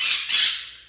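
Blue jay in Connecticut gives a harsh, loud squawk in two quick close bursts, fading out at the end.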